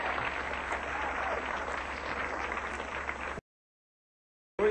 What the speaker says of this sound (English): Nice round of applause for Martin.